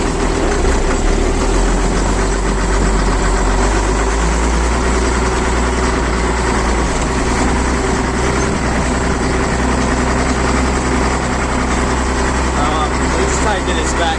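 A farm tractor engine runs steadily with a deep, loud low rumble throughout, its tone shifting slightly as it pulls away; no voices are heard.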